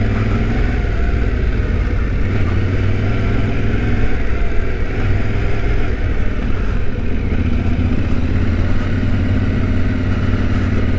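Steady engine drone of a Yamaha Tenere T7 motorcycle being ridden, a continuous loud hum with wind rush and no pauses, with no talking.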